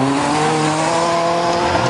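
VW Golf race cars in the big class at an auto race in Bijeljina, a loud close engine roar with rising, revving pitch and tyre noise, sustained with no talk.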